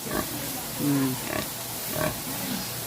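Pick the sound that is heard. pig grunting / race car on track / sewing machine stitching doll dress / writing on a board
pig grunting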